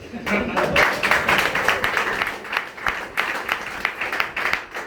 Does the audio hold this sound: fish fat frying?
no